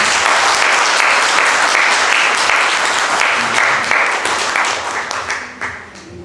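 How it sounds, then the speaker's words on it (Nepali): A church congregation bursts into steady, dense applause in thanks to the Lord, a broad wash of many hands clapping close by that gradually thins and fades toward the end. "प्रभुलाई ताली बजाएर धन्यवाद।"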